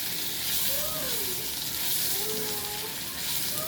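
Paneer pieces fry in a pan with a steady, close sizzling hiss that holds evenly throughout, with no talking.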